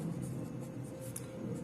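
Chalk or marker scratching on a board during a geometry lesson on cyclic quadrilaterals, a continuous close scribble over a steady low hum, with no speech.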